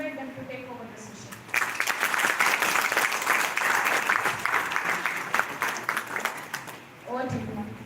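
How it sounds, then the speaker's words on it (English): A round of audience applause welcoming a speaker at a start-up finance workshop: a voice talks briefly, then a loud, dense burst of many hands clapping runs for several seconds before fading as talk resumes. "Let us all extend a warm welcome to Dr. Divya ma'am with a round of applause"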